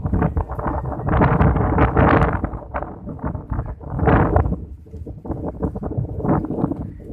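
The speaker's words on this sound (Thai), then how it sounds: "ลมแรงมากครับวันนี้ เป็นลมตะเภานะครับ พัดขึ้นมาจากทางใต้" Strong southerly wind buffets the microphone in loud, gusting roars on a kite-flying field, rising and falling continuously with no talking.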